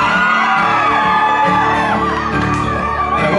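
A live concert crowd at a show screams, whoops and shouts together in a loud, dense, continuous roar with overlapping voices.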